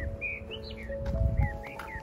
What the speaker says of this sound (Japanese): 野鳥の声。